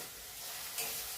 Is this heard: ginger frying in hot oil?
yes